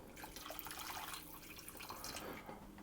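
Water running steadily from a kitchen tap into a pan of potatoes and onions being topped up before boiling, a soft, fairly quiet splashing stream with no talk.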